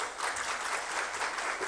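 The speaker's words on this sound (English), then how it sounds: "Kindly give a round of applause." Audience applause at a high-level dialogue on Pakistan's COP28 roadmap, a steady wash of clapping hands that fills the hall without a break.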